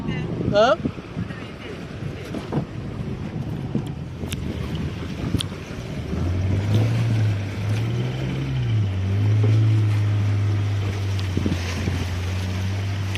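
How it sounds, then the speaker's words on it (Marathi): A fishing boat's motor drones steadily on the open sea off Malvan, passing between two islands, joined by a low engine hum that rises midway, with wind buffeting the microphone and faint voices. "दोन आपल्या आयलंडच्या मधनं होडी काढताय"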